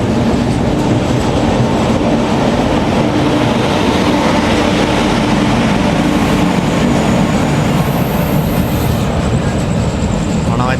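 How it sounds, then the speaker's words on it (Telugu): Loud, continuous rumble and clatter of a Humsafar Express running at speed as it overtakes a special train near Rajahmundry, heard close from on board, with a thin high whine rising near the end. "అనకాపల్లి నుంచి సికింద్రాబాద్కి వెళ్ళే స్పెషల్ ట్రైన్ అయితే ఓవర్టేక్ చేస్తున్నాము"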